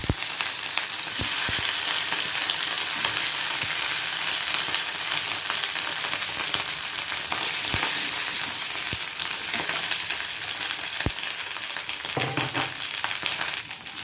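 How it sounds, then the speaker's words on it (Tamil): Steady, dense sizzling of brinjal frying in hot oil in a pan, with occasional sharp crackles and pops throughout. "வானலில் கொஞ்சம் எண்ணெய் ஊற்றி அப்படியே பொரிக்கலாம்."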